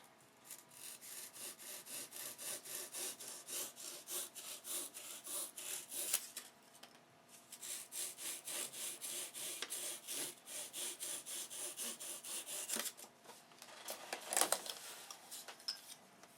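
A hand saw cuts a piece off a wooden workpiece close up, with steady rhythmic strokes, a brief pause partway through, then more strokes to the finish. No one speaks.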